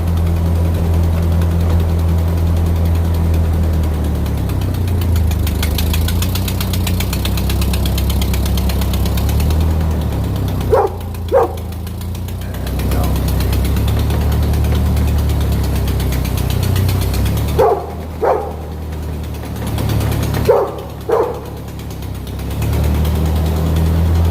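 An old Ford tractor engine runs loudly and close by while reversing, a steady low rumble with mechanical rattling, broken by several sharp metallic clanks and knocks.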